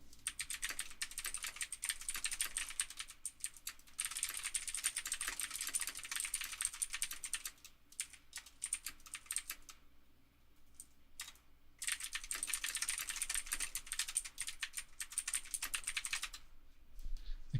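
Typing on a computer keyboard during programming work, dense rapid clatter in two long bursts separated by a pause with a few scattered keystrokes, close and quiet, no talking.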